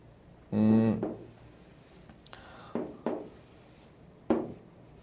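Marker or chalk strokes on a board while sketching an electrical circuit diagram: one longer scraping stroke followed by several short, sharp taps and dashes, close and moderately loud, with soft breathy voice sounds between them.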